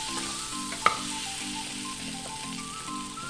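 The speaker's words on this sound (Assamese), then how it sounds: "এয়া মই আকৌ এবাৰ লৰাই ল'ম অকণমান" Taro root curry sizzling in a pan, a soft continuous frying hiss with one brief clink of a utensil as it is stirred, close and fairly quiet.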